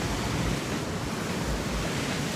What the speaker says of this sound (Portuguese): E aqui tem a passagem do mar.